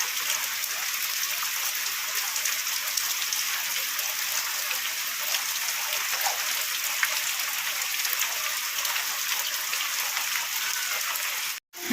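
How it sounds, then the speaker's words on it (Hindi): Heavy rain pours down steadily near Kendujhar, Odisha, as a dense, unbroken hiss that stays loud for the whole stretch before cutting off abruptly at the very end. "इतने जोरे वर्षा"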